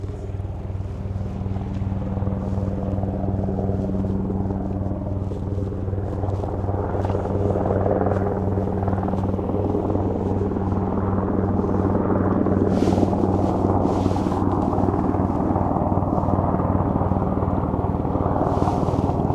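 A helicopter, probably from a North Sea oil rig, comes in to land near an airport, heard as a continuous low rotor drone with wind buffeting the microphone, steady and moderately distant.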